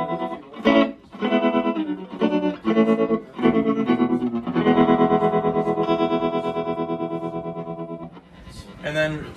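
Electric guitar through a Vox AC15 60th Anniversary handwired amp with tremolo at its fastest speed: a few strummed chords, then a long sustained chord fading with a rapid pulsing wobble, close and clear with no talking.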